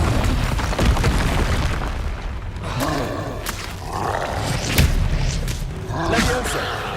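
Confringo fire spell blasts in Hogwarts Legacy gameplay: several booming explosions and roaring bursts rise and fall over about seven seconds, mixed with loud combat effects.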